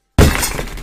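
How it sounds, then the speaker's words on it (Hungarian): A lamp drops and its glass shatters inside a video game: one sudden loud crash after a moment of silence, then a scattering of breaking glass that slowly fades. "leesett hátul a lámpa"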